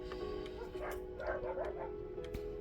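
Pet dogs barking indoors during a storm, a few short yips and barks scattered over a steady low hum, moderately near but not loud.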